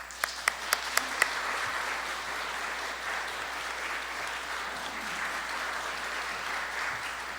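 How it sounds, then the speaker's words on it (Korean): A church audience breaks into warm, sustained applause to welcome a missionary, a few sharp early claps swelling into a steady wash of clapping from a large crowd at moderate distance. "우리 큰 박수로 모실까요?"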